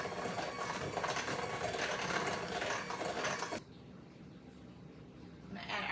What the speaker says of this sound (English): now we're going to just go ahead and mix it in